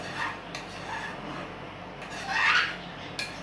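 A utensil scrapes along the side of a pot of Jamaican red peas soup in soft, rough rubbing strokes, with one longer, louder scrape near the end.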